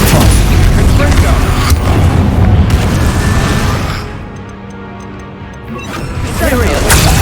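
Spell impacts in Hogwarts Legacy, loud booming blasts and crashing bursts in dense succession, with a brief lull before another heavy impact, over a voice speaking.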